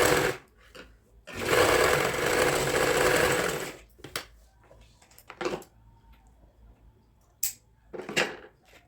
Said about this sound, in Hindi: एक सिलाई और लगा दें यहाँ पे पाइपिंग